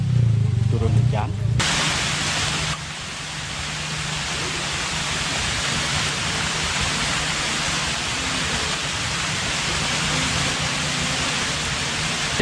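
Steady rain pours down at Pura Kayangan, a Hindu temple in Lombok, as a dense continuous hiss that fills the air after a brief louder opening burst, with voices present early on.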